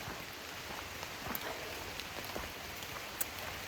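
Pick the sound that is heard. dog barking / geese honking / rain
rain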